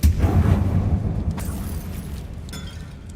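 A Confringo fire spell bursts in Hogwarts Legacy inside an abandoned mine, a loud close boom that rolls into a long rumbling tail with a few faint crackles and pops.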